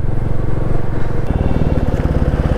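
A Royal Enfield Meteor 350 motorcycle rides along a road on a winter morning, its single-cylinder engine thumping in a loud, steady, close rhythm that shifts pitch slightly partway through, as if changing gear.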